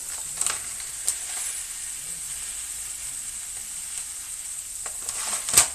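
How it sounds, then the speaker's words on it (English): Arborio rice toasting in a pan with onions and garlic, a soft continuous sizzle and hiss with a few faint scraping stirs scattered through, ending with a brighter clatter. "You want to toast your rice with your onions and your garlic."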